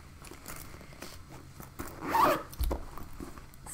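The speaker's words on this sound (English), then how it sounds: "I zipped it up into my zipper." A teal zipper on a crochet project bag is pulled shut in one quick, close zip, a brief rasp standing out against a quiet room.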